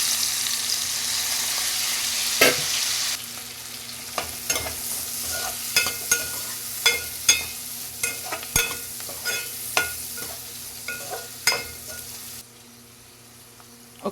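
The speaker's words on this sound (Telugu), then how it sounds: "ఇప్పుడు ఉల్లిపాయలు వేసేసుకుందాం." Sliced onions fry in hot oil with cumin, cloves and cardamom, a steady close sizzle broken by repeated scraping and clacking stir strokes; the hiss drops suddenly partway through and near the end.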